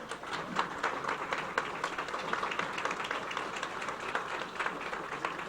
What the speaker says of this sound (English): Shall we stand up and give them a round of applause for their accomplishments?